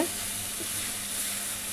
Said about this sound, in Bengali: পুরটা অনেকটাই ভাজা হয়ে আসছে,